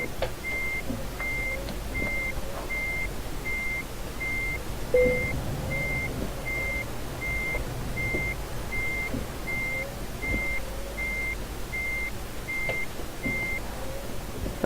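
Steady, evenly spaced reversing beeps from a truck in the Euro Truck Simulator 2 driving game on UK roads, continuing over a low engine hum with no talking.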